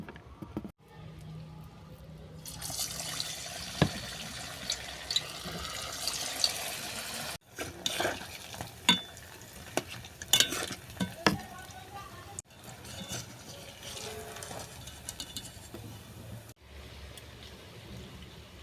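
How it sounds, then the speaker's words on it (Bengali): Ridge gourd tikki cutlets fry in oil. A quiet, continuous sizzle runs throughout, broken by occasional clicks and clatters and a few brief pauses. "এবার আমি তেলে ভেজে নেবো"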